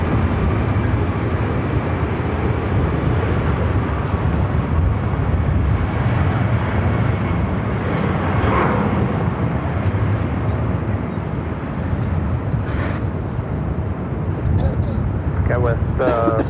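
An Alaska Airlines 737 MAX 9 at Phoenix airport gives off a loud, continuous low engine roar that stays steady throughout, with faint voices and radio-like chatter mixed in beneath it.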